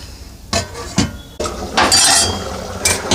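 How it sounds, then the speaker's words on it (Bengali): A lid goes onto a pot of vegetarian potato bori curry with sharp metallic clinks and clanks, several distinct knocks, then a louder sizzling rush as it settles. "এবার এটাকে 5 মিনিট ঢেকে রেখে দেবো।"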